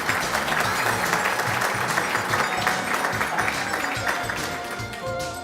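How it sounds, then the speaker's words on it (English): A crowd at an outdoor volunteer celebration applauds for an honoree, with loud, continuous clapping across the whole stretch and some cheering mixed in, tapering slightly at the close. "So a round of applause for Darren"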